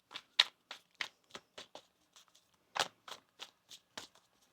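Tarot cards are shuffled by hand in a series of crisp riffling bursts, close and clear, with brief pauses between them and no talking.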